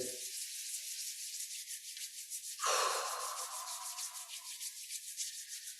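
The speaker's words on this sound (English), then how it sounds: "Rubbing the palms together." Palms rubbing together in a gentle self-massage during a Wu Dang style Eight Treasures qigong practice, a steady soft brushing swish lasting several seconds, close and fairly quiet, with one brief stronger rub partway through and no talking.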